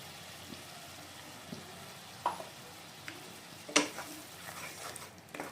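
Mustard, poppy seed and green chili paste stirred into cooked tomatoes in a frying pan, giving a soft low sizzle with occasional spoon scrapes and one sharper clink against the pan.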